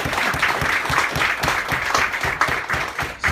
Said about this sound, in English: please, have a nice round of applause for your stars up here tonight